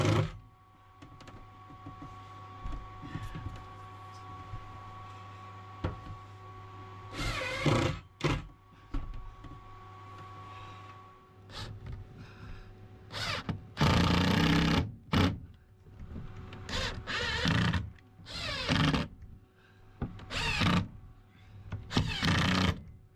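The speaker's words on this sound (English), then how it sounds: "let's get my screwdriver, some screws, and we'll put these in place." Screws being driven by hand with a screwdriver inside a van, heard as repeated bursts of close ratcheting, scraping and rattling effort separated by quieter pauses, with no talk.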